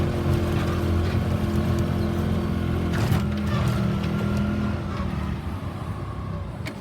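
A tractor engine idles and rumbles steadily close by, a continuous low mechanical drone that eases slightly toward the end.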